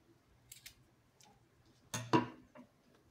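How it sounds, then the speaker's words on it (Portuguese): Scissors snip crochet yarn on a quiet table: a couple of faint ticks, then one sharp, close cut near the end. "Aqui nós vamos cortar o fio."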